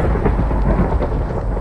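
Thunder from a thunderstorm in the Minecraft video game, a loud, close, continuous low rumble with a rain-like hiss over it for under two seconds.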